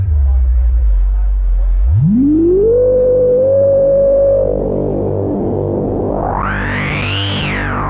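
A Minimonsta synthesizer tone with boosted resonance glides upward into a sustained, buzzy resonant drone, then sweeps sharply higher with a bright, squelchy filter peak; loud and continuous.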